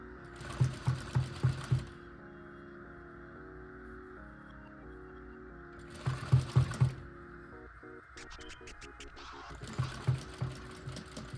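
A sewing machine stitches a bucket hat, running in three short bursts of rapid, rhythmic clatter separated by quieter pauses, loud and close with no talking.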